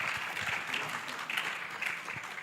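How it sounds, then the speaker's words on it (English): Applause from a conference audience for a team on stage, a steady, fairly soft wash of clapping lasting a couple of seconds with no talk over it. "A round of applause for this awesome team"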